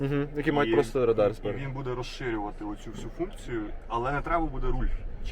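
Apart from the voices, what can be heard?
No everyday noise stands out behind the speech.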